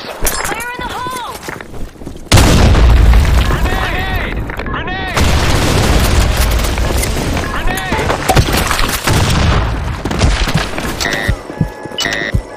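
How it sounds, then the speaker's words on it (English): A grenade blast in a military video game, a loud booming explosion layered with gunfire and shouting voices in a busy combat soundscape. "Grenade!"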